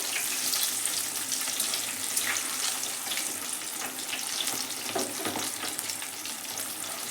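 Mirchi bajji, chilli fritters in batter, frying in hot oil over a low flame, giving a dense, continuous crackling sizzle that stays close and steady throughout, with no voices.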